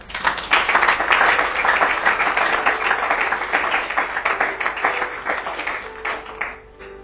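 A congregation applauds during a Sunday church service, a thick, continuous patter of clapping from many hands that holds steady, then thins and fades toward the end.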